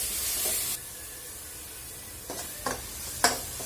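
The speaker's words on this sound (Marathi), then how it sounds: "त्याच्यामध्ये ती ऍड करणार आहोत चांगली परतून घ्यायची आहे तेल सुटेपर्यंत" Tomato paste sautéing in oil for Kolhapuri misal, a steady soft sizzle with a few sharp spoon taps and scrapes against the pan near the end.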